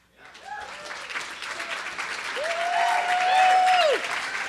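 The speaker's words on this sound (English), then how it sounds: "Can I have a louder cheer than that?" Applause and cheering from a live audience at a FailCon interactive session, a dense sustained clapping that swells louder midway, with whistles or shouts rising above the crowd.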